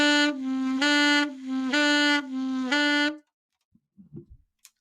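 Saxophone phrase with half-tongued ghost notes sliding between pitches: four sustained tones with soft dipped transitions, played alone and close, then a few faint clicks after it stops.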